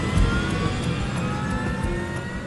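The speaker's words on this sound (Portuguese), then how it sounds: "E grava o som dos motores de dentro da cabine." Aircraft engines heard from inside the cockpit of the jet flown as Flight 90, spooling up steadily to a loud, continuous roar with a low rumble and high whine, and no talking.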